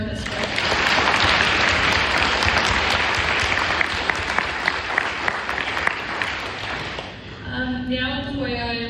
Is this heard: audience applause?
yes